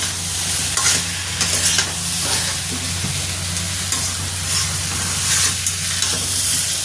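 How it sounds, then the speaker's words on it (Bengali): Bengali home-cooked curry sizzles loudly in a pan with a continuous broadband hiss and scraping stirs as water goes in, staying close and dense for the whole stretch with no talking. "তরকারিটা কষা হয়ে যাক জলটা দিয়ে দিই"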